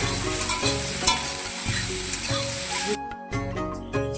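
Spices with turmeric sizzle in a hot pan as a spoon stirs them, giving a close, steady frying hiss broken by scraping strokes and a couple of short pauses, with no talking.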